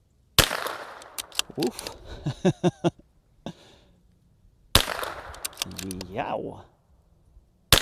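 Rifle shots fired with Norma Xtreme .22 LR ammunition: two sharp, loud reports several seconds apart, each followed by brief outdoor echo, with a man's exclamations and short remarks between them.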